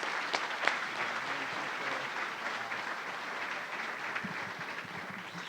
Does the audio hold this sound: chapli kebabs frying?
no